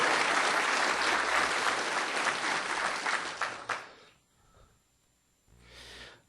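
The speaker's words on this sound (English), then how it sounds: "Yes, applause, applause, applause." Dense applause rises from a graduation audience at an NC State mathematics ceremony, steady and full for several seconds before cutting off. A brief quieter burst of clapping returns near the end.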